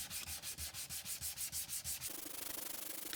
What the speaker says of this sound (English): we sand at right angles to the direction of the previous one